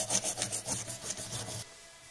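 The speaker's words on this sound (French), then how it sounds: "On va faire une petite session de frottage. Allez, on frotte." A badly rusted vernier caliper is rubbed clean in quick back-and-forth strokes, a close scratchy rasping with about a dozen rhythmic passes over a second and a half, then silence.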